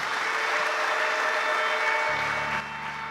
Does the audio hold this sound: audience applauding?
yes